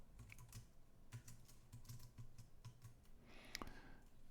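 Close, quiet typing of code on a computer keyboard, an irregular patter of key clicks with a louder cluster of strokes near the end, no voices.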